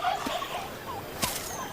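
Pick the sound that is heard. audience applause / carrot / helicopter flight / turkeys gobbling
turkeys gobbling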